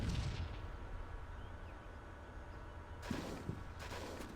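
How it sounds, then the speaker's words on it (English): Artillery barrage in Combat Mission: Cold War, heard as rumbling, distant booms with a few sharper impacts near the end, moderately faint over a low background. "our artillery starting to fall"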